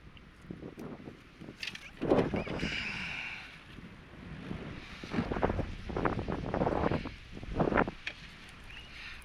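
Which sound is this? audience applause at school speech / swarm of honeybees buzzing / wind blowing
wind blowing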